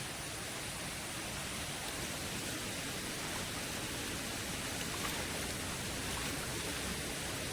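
Steady, close rush of stream water flowing continuously while hands are washed in it, with no voices over the wash of sound.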